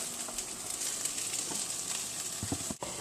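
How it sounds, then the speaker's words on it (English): Shrimp stir fry sizzles steadily in a hot pan, a close, even hiss with a few soft knocks near the end. "you can just let it sit just to make sure that the shrimp are being cooked properly"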